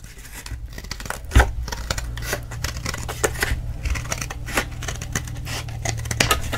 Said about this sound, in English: So now I'm going to just cut this down.